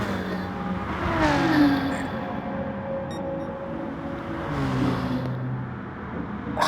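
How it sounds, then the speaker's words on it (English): Race cars in a racing video game speed through the night streets of Tokyo's South Inner Loop, engines revving and whining up and down as they pass, loud and continuous with no talk. "the sound of these magnificent cars going round through the streets"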